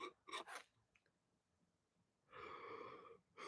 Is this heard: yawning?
yes